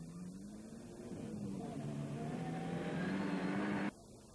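A rally training car from the 1996 Salgó Rally in Hungary pulls away with a steady engine note that rises as it accelerates. The sound builds in level and then cuts off abruptly.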